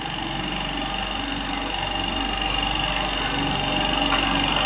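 An automatic granular food weighing and packaging machine runs steadily while sealing bags, giving a continuous, even mechanical hum and whir with a fine rapid clatter and no talk.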